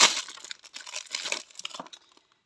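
Plastic packaging crinkles and tears as a roll of craft material is unwrapped, with close, irregular rustling bursts that fade out toward the end.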